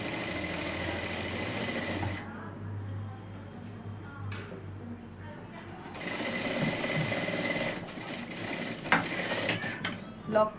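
A sewing machine stitches a peplum top in quick bursts of mechanical whirring and ticking, pausing in the middle before starting again, close by with some handling clatter near the end.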